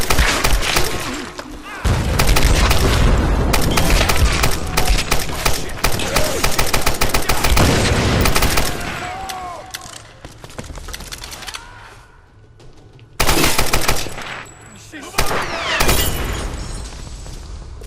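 Rapid bursts of gunfire from a weapon in Tomb Raider Definitive Edition, loud and dense with sharp repeated shots, dropping to a lull before another heavy volley near the end.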